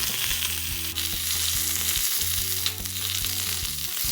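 Eggplant sizzles and roasts in a hot pan as it is made into bharta, a steady close frying hiss with crackles throughout and no talking.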